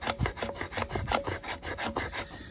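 A knife's 90-degree spine scrapes along wood in quick repeated rasping strokes, close and steady, producing fine shavings with no talking.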